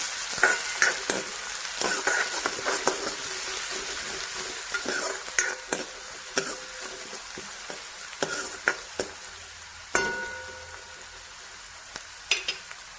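Onions and curry leaves frying in a pan for a Marathi moong dish, a low sizzle broken by frequent clinking spatula stirs and scrapes at an irregular rhythm.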